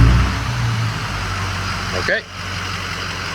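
Rebuilt Ford Super Duty Powerstroke diesel engine idles with a steady, close mechanical rumble that drops slightly in level partway through, with a single short spoken word.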